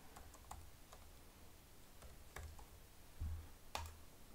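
A computer keyboard is tapped in short, scattered keystrokes as a license code is entered, faint light clicks in a quiet room.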